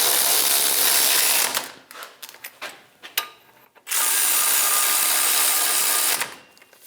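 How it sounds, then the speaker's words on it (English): A ratchet snugs the front brake caliper bracket bolts on a 2003-2025 Chevrolet Express 2500. Two long runs of close, steady mechanical whirring are separated by a stretch of short, choppy clicks and bursts. "Snug the bolts down."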